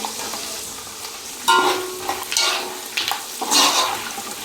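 A handful of curry leaves dropped into hot oil for a poha mixture crackles and sizzles in loud bursts over a steady frying hiss, with sharp spitting flare-ups recurring through the pan.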